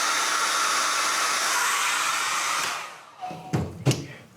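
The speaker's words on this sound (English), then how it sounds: "After using a hairdryer to shrink the tubing" A hair dryer blows hot air over heat-shrink tubing on a battery cable lug, a loud steady whooshing hiss that cuts off partway through, followed by a few close handling clunks.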